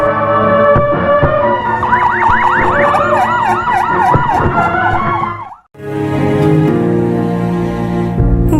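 A loud wailing ambulance siren rises and falls repeatedly over traffic noise, cuts out briefly, then resumes with engine rumble close by.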